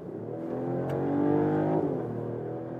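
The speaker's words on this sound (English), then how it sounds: "Acceleration test in the sport mode from 60 kilometers an hour." A 2024 Mercedes E450 4Matic with a 6-cylinder petrol engine and electric boost accelerates hard in sport mode from 60 km/h, its engine droning and rising in pitch inside the cabin, with a gear change near the end.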